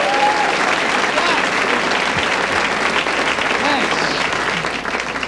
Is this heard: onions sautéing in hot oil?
no